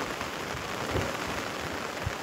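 Heavy rain pours down in a sudden cloudburst over a village, a steady dense roar of falling water with a few low thumps underneath, continuous and close throughout.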